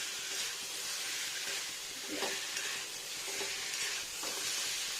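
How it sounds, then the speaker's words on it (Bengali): Pieces of fish are stir-fried with spice paste in a pan, giving a continuous sizzling hiss broken by a few soft stirring scrapes, moderately quiet and close. "এবার মশলাটার সঙ্গে মাছটা একটু কষিয়ে নেবো"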